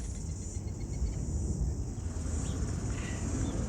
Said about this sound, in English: That background chirping noise that you can hear is the New Zealand cicada.